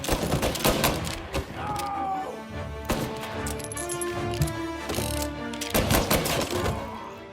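Gunfight in Mafia: Definitive Edition, with bursts of automatic fire and single shots cracking in irregular clusters, loud and close against a tense game backdrop.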